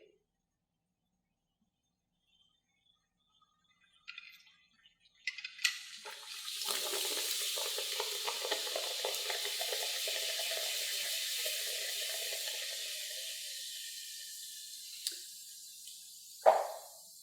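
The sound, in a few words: hydrogen peroxide bubbling in a test tube with catalyst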